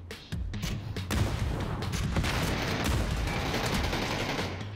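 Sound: rockets fired in video game

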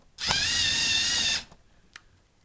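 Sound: Lego Mindstorms EV3 robot motors driving around

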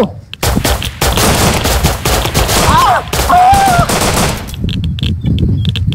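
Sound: gunfire in the video game Rust

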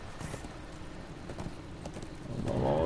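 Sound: horse hooves clip-clopping in Darksiders 2 video game

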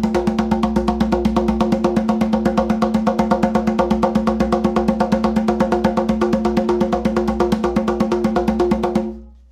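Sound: shamanic drumming rhythm at alpha tempo, 8 beats per second

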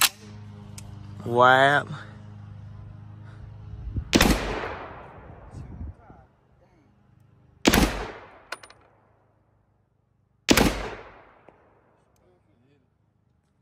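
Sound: gunshots fired at steel target

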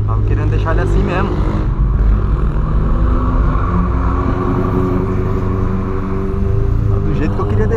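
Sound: VW Polo with straight-through exhaust revving loudly

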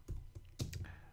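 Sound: typing on a computer keyboard

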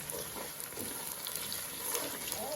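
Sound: curry leaves frying in oil for garlic pickle

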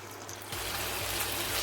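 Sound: two spoons of water poured into hot tempering

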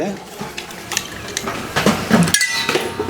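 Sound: stirring a mixture in a glass, clinking

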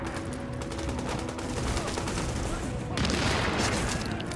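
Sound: gunfire in a video game

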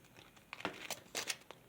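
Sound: folding paper

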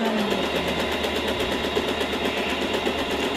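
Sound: Usha Janome Allure DLX sewing machine starting to stitch

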